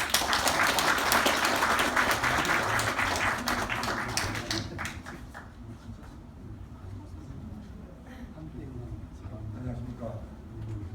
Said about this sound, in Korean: 발표자이신 이시연 박사님을 박수로 모시겠습니다.